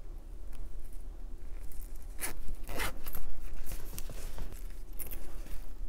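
A zipper is drawn along a crocheted hobo bag in several short, scratchy pulls, close and clear, with sharper rasps partway through and no talking.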